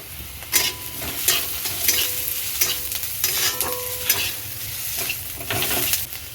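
Vermicelli is stir-fried in a dry pan, with repeated scraping and stirring strokes of the utensil over a steady low frying sizzle, loud and close, with no voices.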